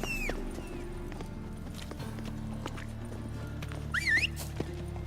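Horse hooves clip-clopping and a brief high whinny from a horse in The Witcher 3 video game, a steady low game ambience underneath and the neigh rising near the end.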